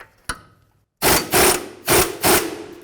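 An air impact gun hammers at 21mm strut bolts on a 2007–2012 Nissan Altima in four loud, close bursts after a single sharp click and a short pause.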